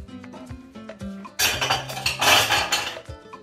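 A large spoon scoops apricot jam in a bowl, with clinks and scrapes of metal on dish that swell into a denser, louder scraping in the middle, close up with no talk.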